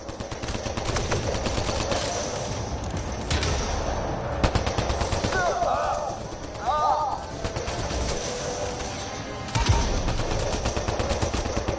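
Sustained gunfire in the video game Mass Effect Andromeda, dense rapid shots with a few louder bursts, running under a voice talking throughout.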